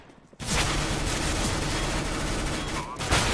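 P90 submachine gun fire in a Counter-Strike: Global Offensive match: a dense, continuous stream of rapid shots for about three seconds, loud and close, with a voice nearby.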